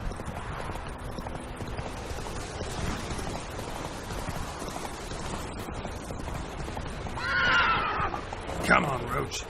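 Roach the horse in The Witcher 3: Wild Hunt, hooves clopping steadily before a short whinny near the end, moderately close, with speech and ambient outdoor noise in the background.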